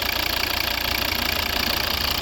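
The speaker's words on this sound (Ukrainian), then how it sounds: "Ось робота і звук двигуна." A 2011 Volvo V60's 2.0 D3 five-cylinder diesel engine idles steadily with a rough, even throb and a constant mechanical hum, close and continuous without talk.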